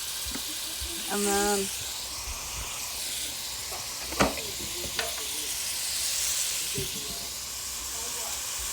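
Tomato sauce sizzles as it hits sofrito in a hot pan, a steady broad hiss running throughout with a few clinks and taps, while a person speaks briefly near the start.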